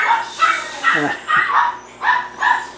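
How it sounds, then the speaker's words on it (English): Dogs bark repeatedly outdoors in a scruffy little port town in the Philippines, a run of five or six loud, evenly spaced barks with a short whimpering yip in the middle, fairly close. "The dogs have decided to join me"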